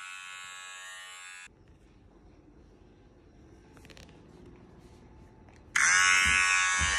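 A harsh electric buzz like a shaver, played from a phone app, starts loud, cuts out to a quiet low rumble, then blares back on even louder.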